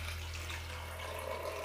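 Water pours steadily into a pressure cooker holding soaked lentils and wheat for haleem, a continuous close splashing rush over a low background hum.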